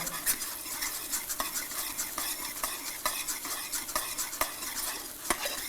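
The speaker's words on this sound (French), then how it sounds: "On entend le beurre." Butter melting and sizzling in a pan as it is stirred, a soft, steady crackle with rapid scraping and clinking of the utensil against the pan, fairly quiet and close, no talking.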